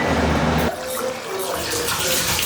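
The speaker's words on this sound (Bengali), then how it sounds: "এখন এর মধ্যে দিয়ে দেবো পরিমাণ মতন জল।" Water poured into a pan of chicken kosha, a steady liquid gush starting loud and then settling into a softer pour over a few seconds, with no talking.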